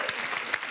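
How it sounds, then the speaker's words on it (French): Studio audience applause on a French television game show set, a brief burst of clapping heard at moderate level. "Applaudissements pour Julien et Katia."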